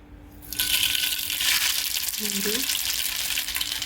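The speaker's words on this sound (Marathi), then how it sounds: "तोपर्यंत तेल फोडणी करायला लागली आहे" Hot oil for tempering bursts into a loud, steady sizzle after a brief quiet start, with a faint clink partway through.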